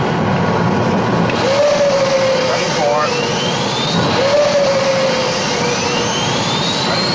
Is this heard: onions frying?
no